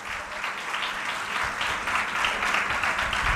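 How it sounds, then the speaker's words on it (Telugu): A church congregation clapping loudly in praise of God at a church anniversary service, a dense, sustained round of applause from many hands that stays steady throughout. "ఒకసారి గట్టిగా చప్పట్లు కొట్టి దేవుని స్తుతిద్దాం"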